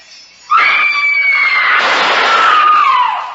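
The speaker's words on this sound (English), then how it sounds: "That scream, high enough to shatter crystal." A single high-pitched scream from a radio drama, starting suddenly and held loud and close for about three seconds, its pitch sliding slowly downward, with no other sound around it.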